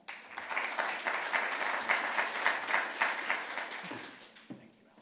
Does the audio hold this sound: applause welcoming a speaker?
yes